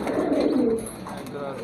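Pet pigeons, a male and a female pair, give a brief close coo that lasts under two seconds.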